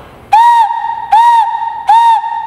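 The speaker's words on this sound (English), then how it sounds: "Once you got your whistle working" Three loud, clear hoots from a hand-blown clay whistle, each a short, steady pure tone lasting about a third of a second, spaced evenly and heard alone.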